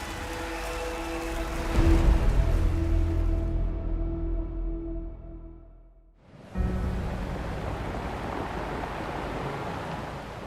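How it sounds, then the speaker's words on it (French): Rain falls during a Tour de France cycling stage, a broad steady hiss with a low rumble beneath it that briefly fades to near silence before the dense rainfall sound returns. "La pluie s'invite plus tôt que prévu sur cette première étape."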